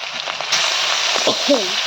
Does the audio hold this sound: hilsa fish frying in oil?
yes